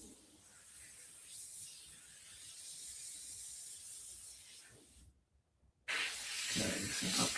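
An airbrush sprays paint for zombie artwork, a steady close hiss that runs for about five seconds, cuts out briefly, then resumes at full strength.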